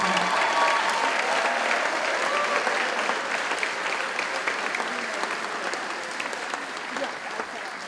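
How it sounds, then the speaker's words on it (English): An audience at an eighth-grade graduation ceremony at a Solomon Schechter day school applauds in a sustained, dense wash of clapping that holds steady for several seconds and slowly thins toward the end. "We can give them a round of applause"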